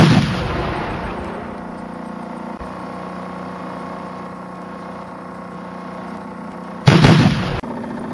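The side cannons of a steam-powered steampunk model battleship fire in a loud burst at the start and another near the end, with a steady mechanical hum between.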